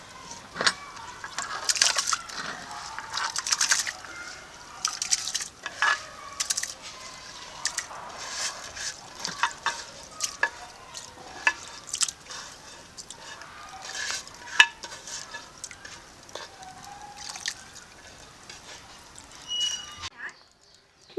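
Washed broken rice tipped into hot water in a wok, with scattered clatters and stirring noises from the pan under someone talking throughout.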